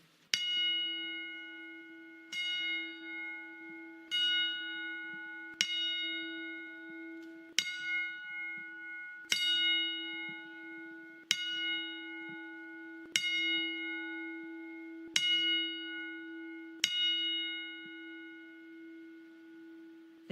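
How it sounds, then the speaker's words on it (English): Bells tolling in a 10-bell salute, evenly spaced ringing strikes about every two seconds, each bright clang decaying into a sustained hum, loud and alone. "Join us as we pay our respects with the 10-bell salute."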